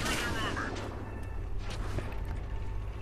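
Tank cannon shots crack and boom in a World of Tanks battle on Xbox, with a Luchs light tank among the vehicles, heard as loud gunfire and rumbling engine noise under continuous speech.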